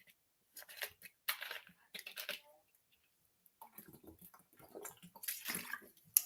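Water being poured or sipped during a pause, heard as intermittent soft splashy and gulping sounds in short bursts, close and fairly quiet, with no talking.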